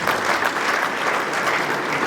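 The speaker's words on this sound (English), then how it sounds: "you need to clap for yourselves." A crowd of accountants at an Association of National Accountants of Nigeria fellowship ceremony claps together, steady dense applause throughout, close and fairly loud.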